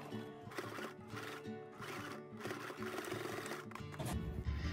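A sewing machine stitches fabric for a one-layer kids' face mask, with a fast, even mechanical whir that runs steadily up close and grows busier near the end.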